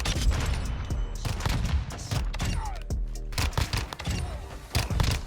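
Rapid SMG burst fire from Modern Warfare 2, with dense repeated volleys of sharp shots in quick clusters and short gaps between them, loud and close.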